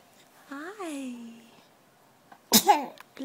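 A baby coos and babbles with a rising, wavering voice, then gives one sudden sharp sneeze close up, followed by brief quiet.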